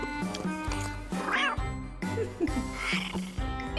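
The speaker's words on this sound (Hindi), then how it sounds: "जी, कमरे में एक बिल्ली है।" A cat in a room meows repeatedly, several drawn-out, wavering cries coming close and fairly loud over a faint background.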